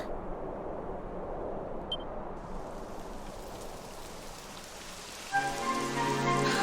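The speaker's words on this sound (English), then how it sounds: "Typical. It would have to go and start raining, wouldn't it?" Steady rain in the video game Dragon Quest XI S patters and hisses across the scene, a soft continuous wash with no voices, joined near the end by a brighter layered ambient tone.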